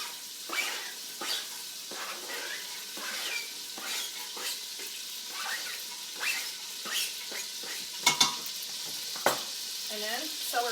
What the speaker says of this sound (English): we're going to add our onions and our celery and our carrots to the pot to saute them to get them nice and soft